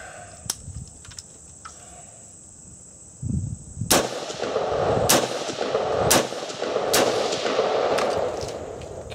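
An AR rifle fires through a 30-round magazine: a sharp shot cracks out, then a steady string of loud, evenly spaced shots follows, ringing with outdoor echo.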